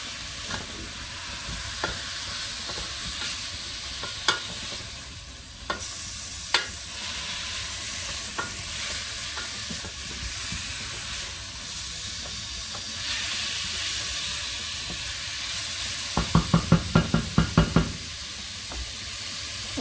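Okra sauce ingredients sautéing in a pan give a steady low sizzle with light stirring, a few scattered knocks of a utensil, and a brisk burst of rapid scraping taps near the end.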